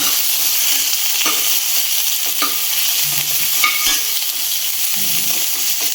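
Rajasthani chilli pakoras fry in hot oil with a loud, continuous close-up sizzle, marked by occasional faint clinks and pops and no speech.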